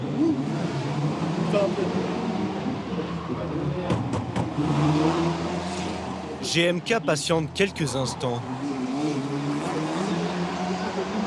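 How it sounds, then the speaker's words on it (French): A car drives a lap of the Monaco Formula 1 street circuit, its engine a steady near drone with brief revving bursts midway, heard under continuous talk. "rouler avec sa voiture sur le circuit de F1 de Monaco"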